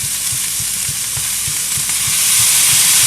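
Noodles for Chapaguri are tossed in a pan beside cooking meat. A steady bright sizzle of frying runs throughout, with regular soft thumps of stirring underneath, growing slightly louder toward the end.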